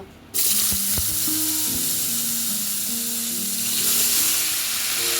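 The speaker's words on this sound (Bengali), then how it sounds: "এই তেলেই আমি আলুগুলো ভেজে নেব" Small potato pieces drop into hot oil and immediately break into a loud, steady frying sizzle. A few clinks and stirring sounds come through the hiss, which stays strong and continuous to the end.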